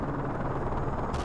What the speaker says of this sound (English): Enemy chopper closing on your position.